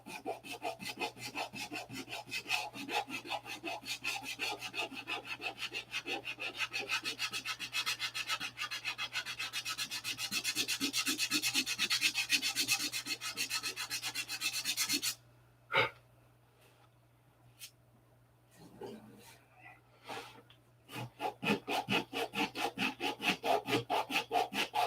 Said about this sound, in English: Sanded out relatively easy, that one.